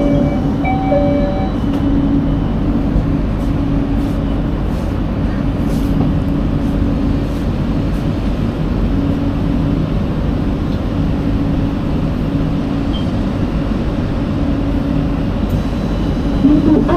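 An LRT Jabodebek light rail train in Jakarta rumbles along steadily, a loud, constant low roar of wheels and motors heard from inside the car, with no break.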